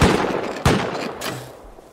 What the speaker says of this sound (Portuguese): Eu dei dois tiros aqui.